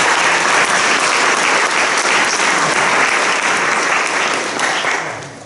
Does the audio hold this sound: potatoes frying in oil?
no